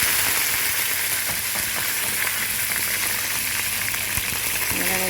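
Dried red chillies and curry leaves sizzle in hot oil, a loud continuous close-up crackle and hiss with faint stirring ticks, steady throughout and free of talk.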